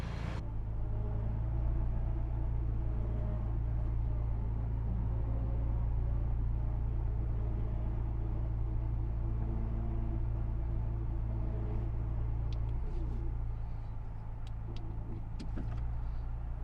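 A vehicle engine idles and rumbles steadily at close range while slowly pulling and spooling line onto a winch under brake tension, a low continuous drone with faint clicks near the end.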